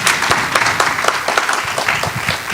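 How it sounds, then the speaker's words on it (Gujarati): An audience at a satsang gathering applauds, a dense, loud burst of many hands clapping continuously throughout. "એકવાર જોરદાર તાળીઓથી આપણે સ્વામીને વધાવી લઈએ"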